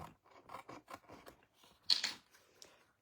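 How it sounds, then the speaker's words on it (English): Scissors trimming paper overhang in a craft project, a quiet series of close snipping and crisp paper cuts with a brighter snip near the end. "If you get a little bit of overhang, just trim that off."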